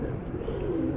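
A large flock of Chitty Lalband pigeons in a showroom coos in a dense, continuous low murmur. The sound is close and even, with no one speaking.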